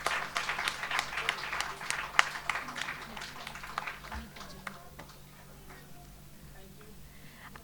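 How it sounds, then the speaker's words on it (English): Audience clapping for an award winner at an awards ceremony, a burst of scattered hand claps that is lively at first, then thins out and dies away into quiet room tone, with faint voices in the background. "I would request you to clap loud for her."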